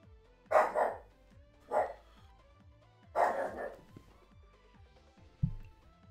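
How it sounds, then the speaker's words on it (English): Dog barking in the video game Mega Man 11: three loud, close barks spaced a second or so apart over a synthesized game music loop, followed by a low thump. "Crazy dog."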